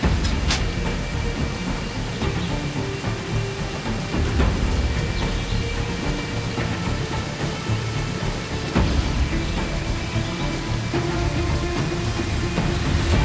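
Steady rain hisses continuously in the video game Assassin's Creed IV Black Flag, with a few faint sharp clicks and a low rumble beneath; no voices.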